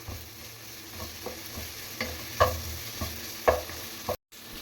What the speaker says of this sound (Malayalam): എല്ലാം കൂടി നമുക്കൊന്ന് മിക്സ് ചെയ്യാം